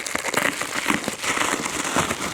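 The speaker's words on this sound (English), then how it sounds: "I'm just gonna unwrap these." Paper and plastic packaging around mailed books crinkles and crumples as it is pulled open by hand, a close, continuous rustle with small crackling bursts and no talking.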